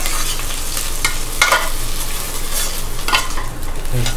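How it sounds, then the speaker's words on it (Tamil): Ginger-garlic paste is stirred into onions frying for a mutton curry: a loud, steady sizzle with scraping spoon strokes through the pan, no talking. "இஞ்சி பூண்டை சேர்த்து நல்லா நம்ம கலந்து விட்டுடலாம்."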